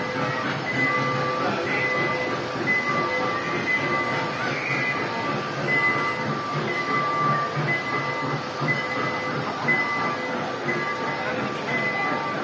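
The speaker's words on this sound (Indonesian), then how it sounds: "Naik kereta api." A small tourist ride-on train runs through a shopping mall, a steady rolling rumble with faint clatter and ringing tones, amid busy indoor background noise.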